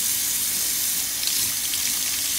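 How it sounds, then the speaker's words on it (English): Water runs steadily from a faucet into a sink with a loud, continuous hiss and splash, heard close and alone with no talk. "Claire, turn the faucet on, please"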